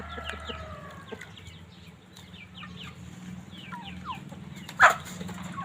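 Chickens cluck and chirp in a rural Thai garden where they are being fed, a steady low hum running underneath and one sharp, louder squawk close by near the end.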